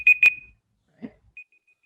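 An electronic alarm gives two sharp beeps, then a few faint, fading tones. A brief soft thud falls between them, and the sound plays alone.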